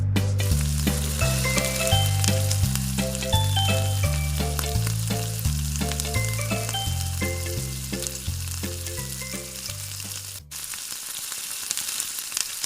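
Chopped ginger and garlic frying in hot oil in a wok give a steady sizzle that runs throughout, mixed in with a loud, continuous musical backing.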